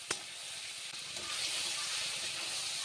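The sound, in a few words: fish lightly frying in oil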